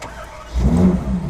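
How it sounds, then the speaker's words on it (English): A car engine fires up at the press of a push-button start, rising into a brief mid-pitched rev and settling into a steady idle close by. "the engine start-stop is like this. Let's press it."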